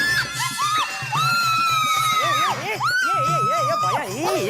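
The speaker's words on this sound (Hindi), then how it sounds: "धीरे बोलो, तुम चिल्ला क्या रही हो?" Someone shouts loudly and continuously in a high, strained voice, close and dominant over a rhythmic low background.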